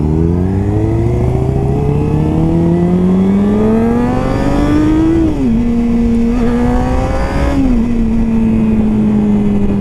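A motorcycle accelerates hard away from a red light, its engine revving up through rising pitch, shifting gear with a brief dip, then climbing again, loud and close throughout.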